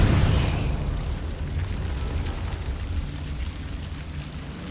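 A Confringo fire-blast spell from the Hogwarts Legacy game on PS5 goes off as one loud boom at the start, then fades into a rumbling low tail that lingers to the end.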